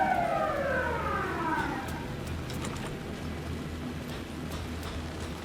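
A police car siren inside the video game Alan Wake 2 wails in rising and falling sweeps during the first seconds, then fades into a steady low ambient rumble.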